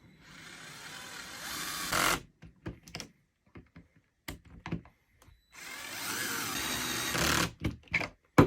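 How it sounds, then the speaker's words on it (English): An electric screwdriver drives screws while a Tekno SCT410 2.0 RC short course truck kit is assembled. Two sustained whirring runs come close and fairly loud, separated by scattered clicks and handling taps, with no talking. "we'll probably finish up with the electric screwdriver."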